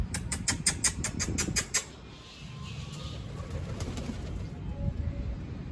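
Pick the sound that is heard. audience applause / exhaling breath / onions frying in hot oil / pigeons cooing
pigeons cooing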